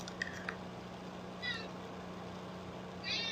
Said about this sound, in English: I have cats, and they're talkative tonight.